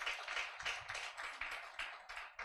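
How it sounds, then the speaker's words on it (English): Steady applause from a lecture audience, a dense patter of many hands clapping at moderate distance, continuing without pause. "Please help me to clap for him."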